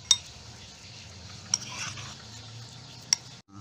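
A utensil stirs a fish bait mixture in a bowl for carp fishing, a low steady scraping with a few sharp metallic clinks at intervals, close and fairly quiet.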